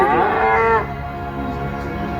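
A cow lets out one loud, close moo that starts strong and trails off into a lower, fading groan.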